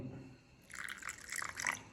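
Water is poured into a spoonful of green chutney powder, a soft liquid trickle and drip that rises in the second half, close and quiet with no talk.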